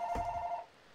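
A single short electronic telephone ring, a steady tone lasting about half a second and then cut off, fairly faint against a quiet room.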